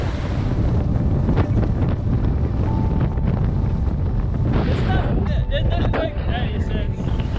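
Strong wind in the mountains of Patagonia buffets the microphone, a loud continuous roar and rumble with gusts throughout.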